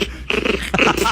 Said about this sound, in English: it's a dog the size of a rat